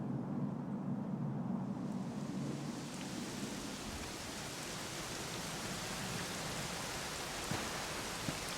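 Steady, dense rainfall in Dragon Quest 11 hisses evenly throughout, with a low rumbling layer early on and occasional faint drips or ticks, and no voices.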